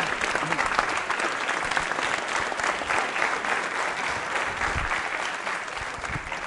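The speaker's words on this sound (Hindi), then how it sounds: "तालियां बजाइए" Sustained applause from a school audience at a quiz show, a dense steady clatter of many hands clapping that fills the whole stretch, with faint crowd murmur beneath.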